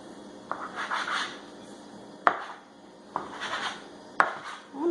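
A knife cuts through soft bread roll dough for homemade dinner rolls, giving a few scraping, rubbing strokes with sharp taps as the blade meets the board, close up and moderately quiet with no talking.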